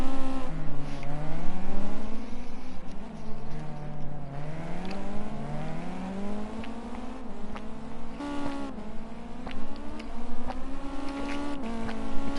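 Caterham race car at Cadwell Park circuit, engine droning steadily with rising and falling pitch as it drives past, close and loud throughout with no talk.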